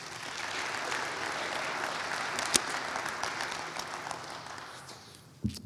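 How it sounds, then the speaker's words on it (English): Audience applause at the Clayton County 2021 State of the County Address, honoring the CFO and her staff: steady, dense clapping from a seated crowd with one sharp clap standing out, fading toward the end before a low thump. "CFO Ramona Bivens and her staff deserve a round of applause"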